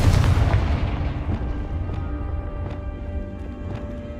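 Confringo blast spell cast in the Hogwarts Legacy video game, a loud booming burst at the start that rolls off into a decaying rumble with faint later pops, no talk.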